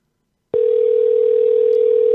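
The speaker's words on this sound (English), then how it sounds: "It's ringing." A telephone call rings out as a single steady, loud tone that starts abruptly after a brief silence and holds unbroken to the end, close and clear with no talk over it.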